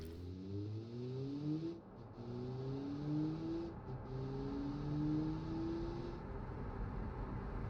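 A car in the BeamNG driving game pulls away from a start line under hard acceleration, its engine note climbing through several gear shifts in a steady, loud drone with no talk.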